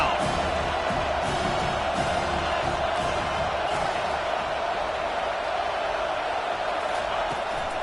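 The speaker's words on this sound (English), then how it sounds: "Here comes this home crowd as the defense tries to get off the field on third down." Home crowd at a Penn State football game roars steadily and loudly as the defense tries to get off the field on third down, a dense, continuous stadium wash of noise with no break.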